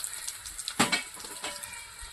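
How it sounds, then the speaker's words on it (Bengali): Whole bay leaves and dry red chillies fry in oil in a kadai as a tempering for khichuri, a soft close sizzle with a sharp burst of spattering and a few light stirring scrapes. "ফোড়নটা ভালো করে ভেজে নিয়েছি"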